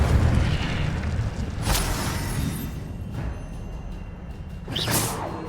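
Magical Incendio fire spells cast in the video game Hogwarts Legacy, heard as soft whooshing bursts over a steady loud rumbling background, with about three distinct swells.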